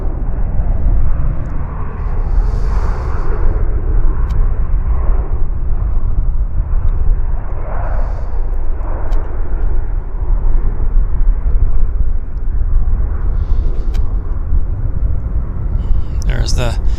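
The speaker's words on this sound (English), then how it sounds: "Very gentle landing." An airliner lands at Vancouver International Airport (YVR), a loud, steady low rumble and roar that lasts throughout, with a voice talking over it.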